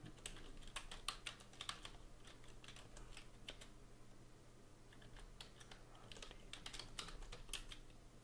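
Rapid, uneven keystrokes on a computer keyboard while working in a Linux terminal, clicking steadily and close for about eight seconds, quiet overall with a low hum beneath and no talking.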